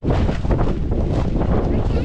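Loud, steady wind buffets the microphone at a campsite with inflatable tents, a roaring rush that barely lets up.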